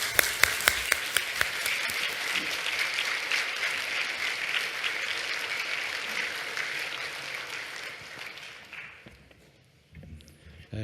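A church congregation applauds at a memorial worship service, welcoming a speaker to the pulpit: a few sharp claps build into sustained, dense applause from a large crowd that fades out near the end.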